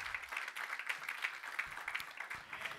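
A church congregation claps in a quick steady rhythm, faint and somewhat distant, sustained for a few seconds.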